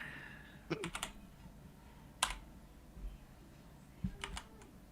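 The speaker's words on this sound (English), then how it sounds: "Typing it out, getting ready to roll." Computer keyboard typing at a desk in short, quiet bursts of clicky keystrokes separated by pauses, close and fairly faint.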